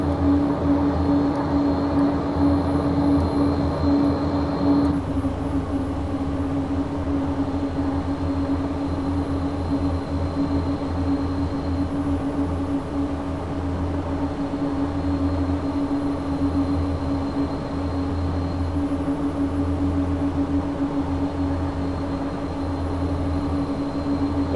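Simulated Q400 turboprop airliner in X-Plane 10, a steady droning engine hum with a strong low tone that holds unchanged throughout, with no voices.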